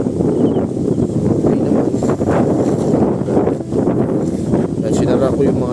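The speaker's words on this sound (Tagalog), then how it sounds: "sobrang lakas ng hangin" Strong wind blows at a campsite, buffeting the microphone with loud, continuous rumbling gusts, while a voice speaks briefly over it.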